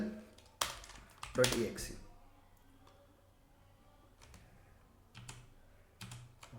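A few scattered keystrokes on a computer keyboard, faint and close, with a louder clack early on and sparse taps later in an otherwise quiet room.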